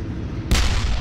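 A single heavy tank cannon shot booms out midway in a World War II battle game set at Kursk, 1943, a sudden broadband blast that lingers with a low rumble.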